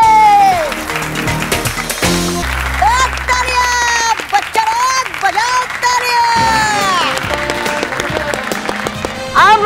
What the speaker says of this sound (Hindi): आ तो बच्चे लोग बजाओ ताली।